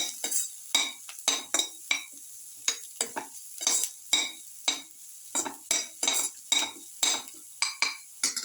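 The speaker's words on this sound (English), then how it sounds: "Thoroughly saute this." Food is sautéed in a pan for a garlic potato and split chickpea casserole, with repeated sharp scrapes and clinks of a utensil stirring in quick irregular bursts over a soft sizzle.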